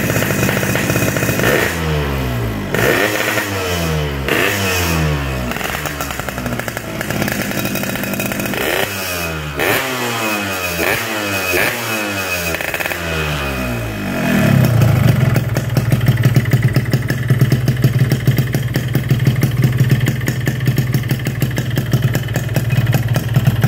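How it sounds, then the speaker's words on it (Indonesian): Restored Yamaha RX-King two-stroke motorcycle starts up and idles without throttle, a loud rapid rattling exhaust note with a few initial sputters settling into a steady, close idle. "Oke, kita hidupin tanpa harus digas."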